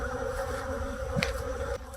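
Honeybees in an opened, neglected hive fill the air with a steady, close drone of buzzing, with an occasional louder bee passing near.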